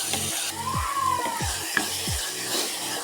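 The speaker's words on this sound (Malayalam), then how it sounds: "തക്കാളി നന്നായിട്ട് ഇളക്കി കൊടുക്കാം" Tomatoes sizzle in a pan while being stirred for tomato rasam, a steady frying hiss with a few scraping strokes and a small clink, close and unbroken, over faint background music, with no talking.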